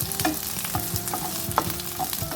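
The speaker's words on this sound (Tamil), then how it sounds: "அடுத்து ஆனியன் கொஞ்சம் நேரம் வேகட்டும்" Large onions sauté in a pan for a thuthuvalai chutney, a quiet, even sizzle broken by a few stirring taps and scrapes, with no talking.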